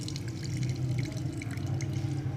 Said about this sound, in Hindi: इसका सारा पानी जो है ना वो निकालना है। ये देखें इस तरह